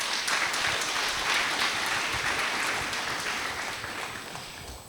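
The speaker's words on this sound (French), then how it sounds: "Veuillez les applaudir très fort" Audience applause at the opening ceremony of a web festival, a steady, full burst of clapping that gradually fades toward the end.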